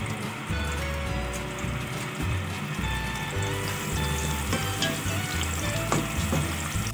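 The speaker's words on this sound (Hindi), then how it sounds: "प्याज ब्राउन हो रही है" Onions browning in two spoonfuls of hot oil, cooked alongside whole garam masala for beef pasanda, give a steady, dense frying sizzle that runs unbroken throughout at moderate level, with occasional faint clinks and no voices.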